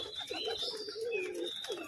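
Soft pigeon coos roll in low, throaty waves near a loft, with faint chirps and a light background hiss around them.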